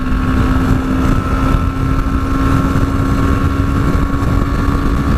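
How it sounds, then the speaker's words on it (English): A 2018 BMW G310GS motorcycle at full throttle on a motorway, its engine droning loud and steady under heavy wind buffeting the microphone, with no pauses. "Right, I'm at full throttle now."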